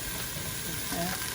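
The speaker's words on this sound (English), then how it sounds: "We're just going to let these saute for a few minutes" Onions sauteing in a pot for potato soup give a steady, soft sizzle and frying hiss, with a faint stir near the end.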